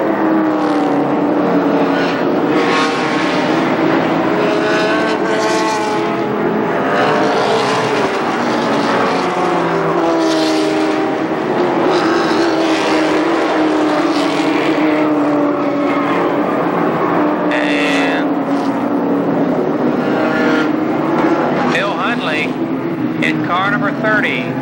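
Dwarf cars race at Columbus Motor Speedway, their engines snarling and rising and falling as they pass and circle the oval. The noise is loud and continuous, and an announcer talks over it throughout.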